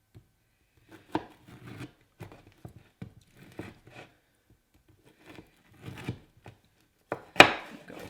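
A sharp knife cuts through chewy date nut squares on a board, a sparse run of soft thuds and crunches spaced unevenly, ending in one louder knock.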